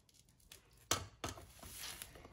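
Borax being mixed into homemade slime with a wooden popsicle stick, giving a few sharp wet scraping and tapping strokes close by, with a louder knock near the start and softer stirring after.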